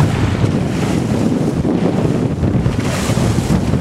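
Strong crosswind buffets a small sailboat off the Turkish coast, a loud roaring gust noise on the microphone mixed with waves washing against the hull, continuous throughout.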